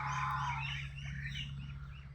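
Domestic ducks calling loudly while hungry, a run of harsh close quacks over a faint steady low hum.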